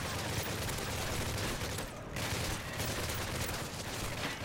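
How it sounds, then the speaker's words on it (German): Dense, continuous gunfire rattles in a Call of Duty MW3 match, a loud barrage of rapid shots that briefly eases around the middle before resuming. "hört doch auf zu schießen hier"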